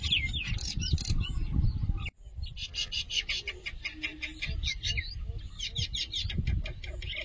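Several chickens clucking and calling near the microphone while they feed, with repeated short clucks and chirps and a brief break partway through, over a steady outdoor background.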